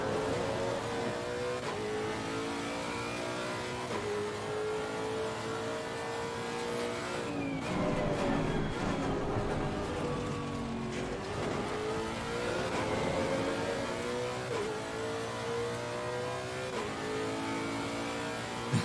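A Lexus RC F race car at Imola in the Assetto Corsa Competizione racing game, its engine revving steadily up and down through gear changes, a continuous high-pitched wail with shifting tones.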